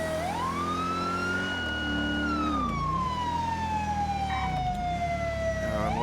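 A police siren in the FiveM GTA roleplay game wails nearby during a stolen police car pursuit, its pitch sweeping up and then slowly falling, over a steady engine rumble.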